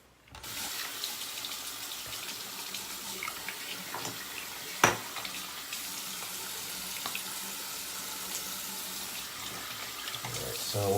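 Tap water runs steadily for a man rinsing off after a wet shave, a continuous broadband splash at close range with a brief louder splash midway and no talking.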